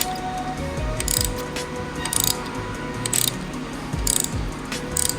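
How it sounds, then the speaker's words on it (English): A pass-through ratchet wrench works on Toyota GR86 coilover springs, giving rapid clicking pawl bursts in five or six evenly spaced pulls, close and loud over a steady background drone, with no talking. "this pass-through wrench comes in clutch if you're doing lowering springs for the GR"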